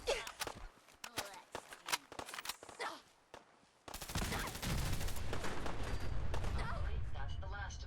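Gunfire in the video game Fallout 4: scattered sharp shots and footsteps at first, then a dense, loud, sustained burst of automatic fire and explosions filling the second half.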